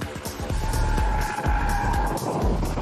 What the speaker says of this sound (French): de retour sur piste, on va enfin pouvoir tester à l'extrême la tenue de route de cette i4 M50